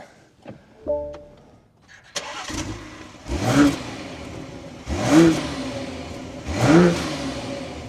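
A starter clicks and cranks, then a BMW X5's B58 engine catches and idles, followed by three sharp revs spaced evenly apart, each swelling and settling back.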